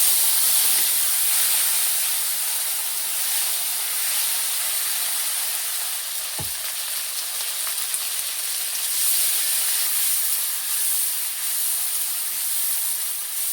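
Potato pieces in hot oil with cumin give a steady, even sizzling hiss throughout, with one brief knock partway in.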